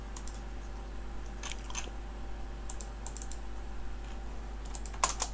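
Code goes in through a computer keyboard in a steady run of quiet, close key clicks, with a brief burst of louder presses near the end over a constant low hum.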